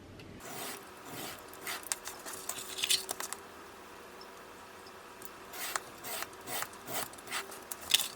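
Mini album cover pieces are cut apart by hand. Quiet, close rasping and scraping strokes come in irregular bursts, with small clicks and pauses between cuts.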